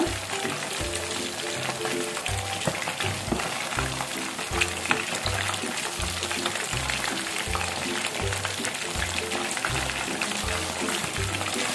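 Green chilli chicken 65 deep-frying in hot oil, giving a steady, dense crackling sizzle that runs throughout, with a rhythmic low thumping backing underneath.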